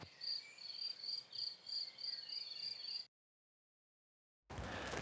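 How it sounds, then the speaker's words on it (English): French meadow crickets chirp in rapid pulsing trills, a steady high rhythmic chorus that cuts off abruptly to silence, then returns as a brief burst of dense hiss. "I've got an effects track, which is some French meadow crickets"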